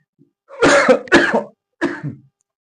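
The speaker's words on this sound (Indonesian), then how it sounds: "orang lagi musim batuk sekarang" Three harsh coughs, close and loud, the first two in quick succession and the third after a short pause.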